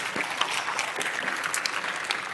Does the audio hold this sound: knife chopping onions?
no